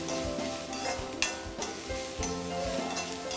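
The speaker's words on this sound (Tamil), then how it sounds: "பச்சை மிளகா போட்டுட்டு நல்லா வதக்கிட்டு" Green chillies sautéing in a pan for chicken cutlets, a steady close sizzle with stirring scrapes and occasional utensil knocks against the pan, no voices.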